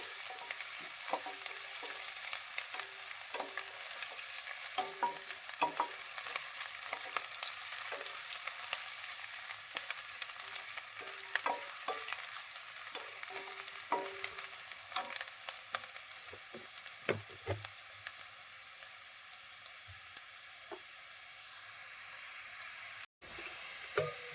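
Soft, steady sizzle of chopped onion frying in a pan for pigeon pea guggillu, with occasional light scrapes and clinks of stirring throughout and no talking.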